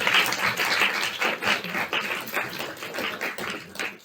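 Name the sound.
audience applause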